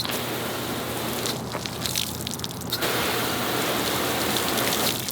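Continuous hissing rush of water spraying and sheeting off car paint, steady and fairly loud with no talking.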